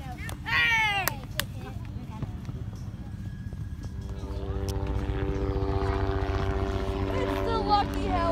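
Helicopter flying overhead at an outdoor wiffleball tournament, a steady droning rotor rumble with rhythmic low-frequency chop that builds in loudness over several seconds, while players shout and talk over it.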